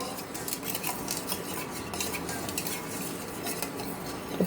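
Pani for pani poori being stirred in a pot: steady clinks and scrapes of a utensil against the vessel with a faint simmering hiss, fairly quiet, no voices.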